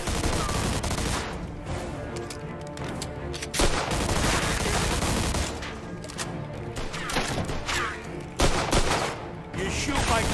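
Sustained gunfire in the Mafia 2 video game, dense overlapping rapid shots and automatic bursts that pound on continuously, loud and close, with a brief crash and some voices mixed in.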